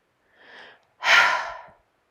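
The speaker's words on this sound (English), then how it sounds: "Take a big breath here, breathing in through the nose and breathing out through the mouth." A deep breath during a lower-body Pilates and yoga stretch: a soft, quiet inhale through the nose followed after a brief pause by a louder, longer, close breathy exhale through the mouth.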